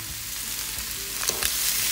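Carrots in a homemade three-meat chow mein stir-fry cooking in a covered pan, with a steady close sizzle and a couple of faint clinks near the end.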